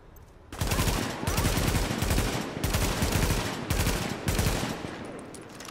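Sustained bursts of automatic gunfire in The Division video game, loud and dense, arriving in several long volleys separated by brief gaps.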